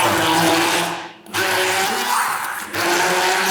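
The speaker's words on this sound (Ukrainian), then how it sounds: "Таке пюре можна просто приготувати за допомогою виделки або взяти уже на допомогу блендер" A kitchen blender whirs loudly and steadily while pureeing soft food, briefly cutting off twice before spinning back up.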